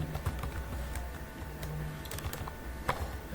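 Typing C code on a computer keyboard: steady, close clicking keystrokes in irregular bursts over a faint background hum, with no talking.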